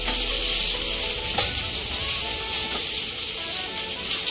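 Finely chopped spiny gourd (kakora) fries in a pan with a loud, steady sizzle, while stirring adds occasional scraping clicks; no one speaks.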